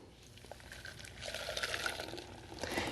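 Blended coconut panna cotta mixture poured from a high-powered blender into a saucepan, a soft steady liquid pour that swells slightly toward the end, quiet and close.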